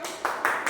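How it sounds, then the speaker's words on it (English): A Toastmasters meeting audience gives a brief little clap, three quick soft claps in under a second, faint and close. "Little clap."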